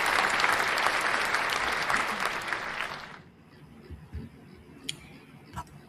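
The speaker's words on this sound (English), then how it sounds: "Round of applause for Wendy." Audience applause for a speaker at an African women in games forum, a full round of clapping that cuts off abruptly after three seconds, leaving quiet room noise with a few faint clicks.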